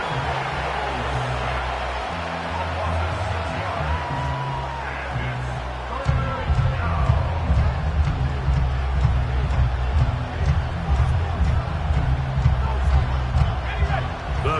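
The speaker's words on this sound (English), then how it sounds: "Crowd cranking it up another notch before 3rd and long." A stadium crowd in the Madden 25 football video game rumbles steadily and grows louder partway through, under a heavy low drone and indistinct commentary.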